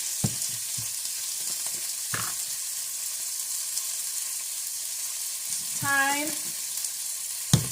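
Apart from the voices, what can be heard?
cheese steak zucchini boat filling frying in a pan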